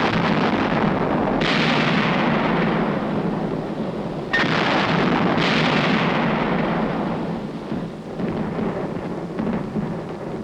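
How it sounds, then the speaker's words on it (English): Artillery surface and air bursts strike entrenched enemy positions during the Korean War in 1951, a dense, continuous roar of heavy booming blasts with sharp new impacts cutting in, loud throughout and easing slightly toward the end. "Surface and air bursts clear the way for the riflemen."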